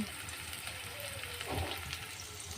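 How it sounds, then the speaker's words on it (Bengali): Chopped onion, garlic and green chilli frying in a pan on the stove, a soft steady sizzle heard close by with a slight swell in the middle. "চুলায় কড়াই বসিয়ে দিয়ে পেঁয়াজ রসুন কাঁচা ঝাল কুচি দিয়ে দিয়েছি"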